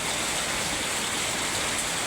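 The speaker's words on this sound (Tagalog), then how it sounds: "Ayan po, lakas ng ulan." Heavy typhoon rain pours down in Bacoor, Cavite, a dense, steady roar of close, loud downpour with no break and no voices.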